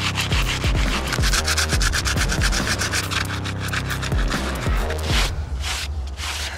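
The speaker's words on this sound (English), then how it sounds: "Sand it down, and then get the secondary crevice sorted out." Steady, loud abrasive rubbing of a sander working across a narrowboat roof, running continuously with rhythmic strokes and no voices.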